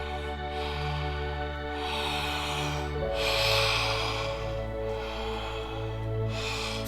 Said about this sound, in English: Full deep body breaths.